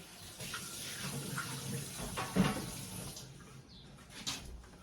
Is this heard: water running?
yes